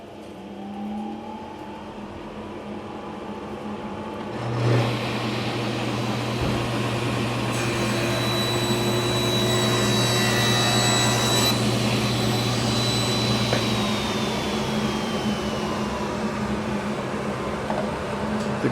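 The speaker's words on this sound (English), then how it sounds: "turn on my dust collection" A woodworking shop's dust collection system starts with a thump, then holds a steady low hum and airy whoosh. Occasional whines rise and fall over it, and a machine sound joins partway through.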